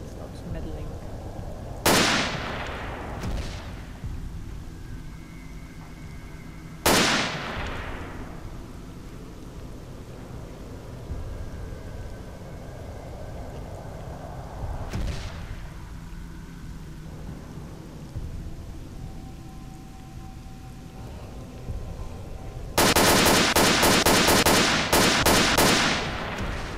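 Gunfire in the video game Return to Zone: a few sharp, loud shots spaced several seconds apart over a rumbling ambience, ending in a dense burst of rapid fire.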